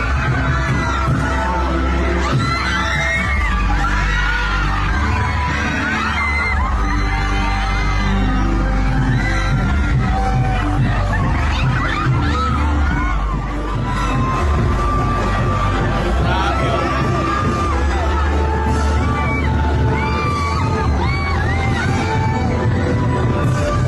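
A dense crowd at a Philippine political gathering for Vice President Sara Duterte shouts, whoops and screams continuously, loud and close, with scattered yells and bangs rising over the steady roar.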